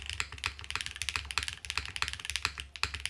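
Someone types on a Space80 mechanical keyboard with a softened mount, a brisk close run of crisp clacking keystrokes in an uneven rhythm, with no talking.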